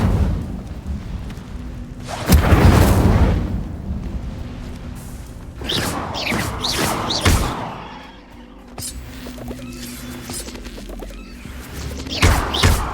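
The Incendio fire spell cast in Hogwarts Legacy, loud crashing fiery bursts and whooshing thumps arriving in clusters over a rumbling background, with brief quieter lulls between the blasts.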